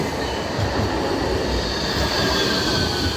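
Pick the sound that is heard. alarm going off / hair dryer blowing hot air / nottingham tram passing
nottingham tram passing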